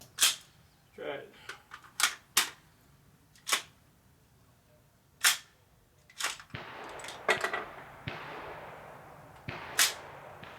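Bushmaster AR-15 rifle shots at an outdoor range: about a dozen sharp, loud cracks in irregular spacing, some single and some close together, with faint talk and outdoor noise between them.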